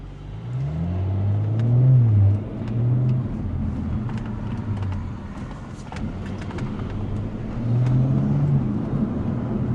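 A 600hp Audi RS5 accelerates hard with its front wheels slipping, the engine note rising and dipping in two surges of revving, fairly close and steady, with no voices.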